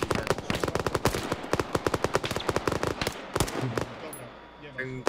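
Machine gun fire in the ArmA 3 military video game, rapid sharp bursts of close, loud shots in quick rhythmic strings with brief gaps, ending in scattered single reports.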